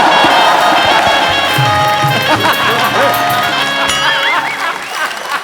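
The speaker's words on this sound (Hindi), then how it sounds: "तालियां बजाना।" A studio audience on a comedy talk show claps and cheers loudly and continuously, with background music and a voice carrying over the applause.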